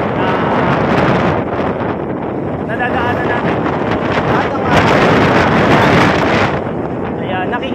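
Strong wind buffets the microphone while travelling at about 30 to 35, a loud, continuous roar that swells and eases, with someone talking over it.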